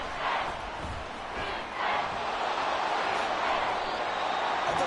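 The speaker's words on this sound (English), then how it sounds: "This crowd turning up the decibel level." A football stadium crowd roars loudly and continuously, a broad wash of cheering that swells and falls slightly, heard with a commentator talking faintly beneath it.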